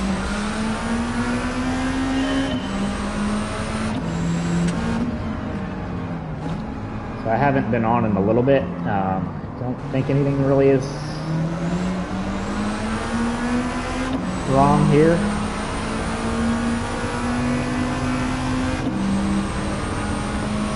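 An engine-swapped Lancia Delta racing in Gran Turismo 7, its engine droning steadily then climbing and dropping through several rev sweeps and gear shifts, loud and continuous under someone talking.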